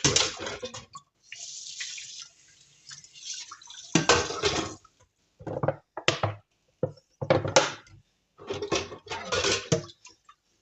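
Water splashes intermittently from a tap as something is rinsed, with bursts of running water broken by short pauses and clinks.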